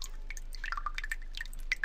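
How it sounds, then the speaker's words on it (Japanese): Water trickling and dripping in a gently flowing small river in a video game, with soft, irregular droplet plinks over a quiet, steady background and no voices. "小さな川がある。 流れはとても穏やかだ。"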